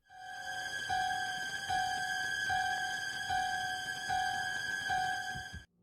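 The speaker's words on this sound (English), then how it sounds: "the Shape sometimes used to play this incredibly creepy sound." Eerie sample played by Michael Myers in Dead by Daylight: a sustained high tone with a rhythmic pulsing note repeating roughly every second, steady and unbroken before cutting off abruptly.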